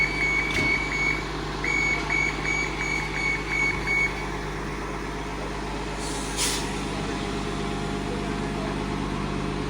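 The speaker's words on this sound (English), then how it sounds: "And there's the Monsters Inc. bus with Mike and Sully." A Disney Monsters Inc. themed bus pulls up at a bus stop, its repeated reversing beeps pulsing over a low idling diesel engine, followed by a sharp hiss of air brakes; steady outdoor rumble throughout.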